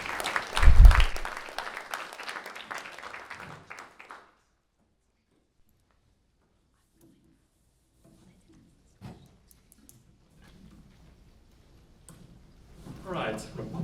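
Audience applause at a Rose Revival public hearing in Lexington, a brief burst of clapping from a modest crowd that fades after about four seconds, then near silence with faint shuffles and a voice returning at the end.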